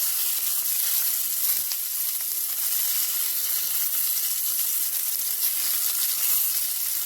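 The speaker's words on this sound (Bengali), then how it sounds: "পটলগুলো একটু হালকা আছে ধীরে ধীরে ভেজে নিতে হবে" Salted, turmeric-coated pointed gourd fries slowly in oil, a steady, even hiss and sizzle that holds at the same level throughout, with no talk.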